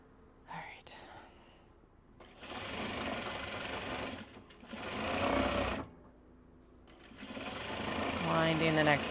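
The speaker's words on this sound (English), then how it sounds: "Winding the next bobbin." A sewing machine motor whirs steadily while winding a bobbin, running in sustained bursts with short pauses between them, up close, with a soft whispering voice in places.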